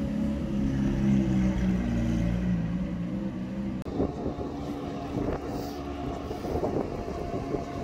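A Turbo S Exclusive Series supercar on a London street gives a deep engine drone that breaks into sharper, rising revs partway through, loud and close with traffic noise around it.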